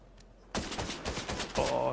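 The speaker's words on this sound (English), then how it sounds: "Oh, he's trying to shoot me down." Rapid bursts of Fortnite gunfire in a solo match: after a quiet start, a loud flurry of clustered shots erupts and continues steadily to the end.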